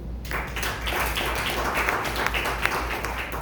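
A church congregation breaks into sustained clapping after a short silence, a dense, even wash of applause over a low steady hum.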